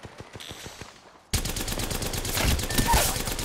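Gunfire in Apex Legends: a quick burst of separate shots, then a loud, dense stretch of sustained automatic fire and game effects, close and harsh.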